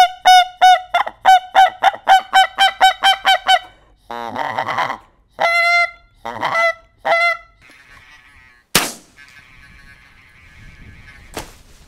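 Hunting whistle calls imitating geese: a rapid run of about a dozen sharp honks, then bursts of lower, rougher honking and a few longer nasal calls, loud and close with short pauses between them.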